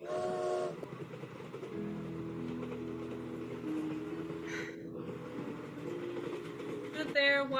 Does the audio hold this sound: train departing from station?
yes